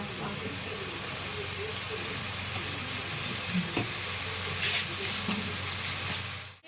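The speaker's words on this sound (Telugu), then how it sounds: "మొత్తం ఇలా ఒకసారి కలిపేసుకొని వేయించుకుందామండి" A vegetable mixture sizzles and fries in a pan over a high flame, with a steady broadband hiss and occasional stirring clatter throughout.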